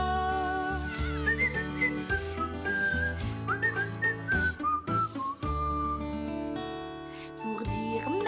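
Someone whistles a cheerful French song melody, clear and close, over steady musical backing with a bouncing bass line, phrases rising and falling in quick runs.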